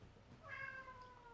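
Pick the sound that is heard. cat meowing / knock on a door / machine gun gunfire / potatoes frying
cat meowing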